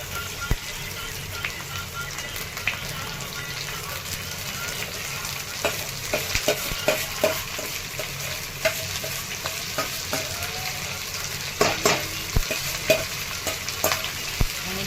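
Stuffed green chillies fry in hot oil over low heat, giving a steady dense sizzle with scattered sharp pops and crackles throughout.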